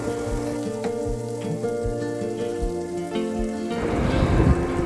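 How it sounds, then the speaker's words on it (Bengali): Chopped onion goes into hot oil left from frying fish and bursts into a dense, close sizzle near the end, following a stretch of tonal background music with soft frying underneath. "এটাকে একটু ভাজা ভাজা করে নেব"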